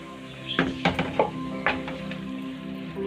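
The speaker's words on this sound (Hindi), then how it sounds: "अब इसे थोड़ा सॉफ्ट होने तक भूनेंगे" Sliced onions and green chillies frying in a pan for aloo gosht, a soft steady sizzle with a few clustered scraping and stirring knocks early on, close and fairly quiet, under a faint steady hum.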